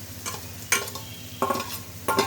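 Water lily stems, green chilies and pre-fried prawns stir-frying in a pan, a close sizzle broken by several sharp scraping stirs in quick succession.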